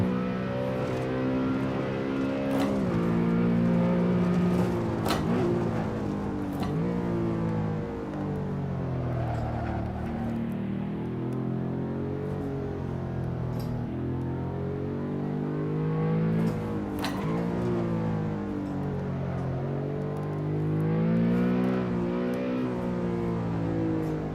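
A racing car's engine lapping Magione circuit in Assetto Corsa, close and loud throughout, rising and falling through repeated gear changes, with rev climbs, downshifts and brief pops as the car corners.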